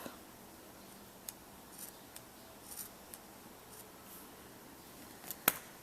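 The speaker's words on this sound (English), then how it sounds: "I'm just going to cut the little end off." Scissors clip off the loose end of soft, fuzzy yarn on a crocheted cupcake scarf, faint scattered snips over a quiet room hiss, with one sharper, louder cut near the end.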